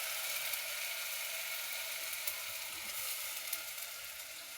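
Masala sizzles steadily in hot oil over a low gas flame, a constant soft hiss with faint crackles and no voices.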